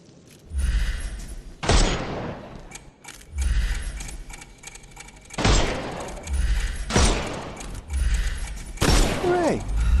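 Gunfire in the Sherlock Holmes Chapter One video game, with several sharp loud bursts spaced irregularly over a rumbling, busy game soundscape with mechanical clanks.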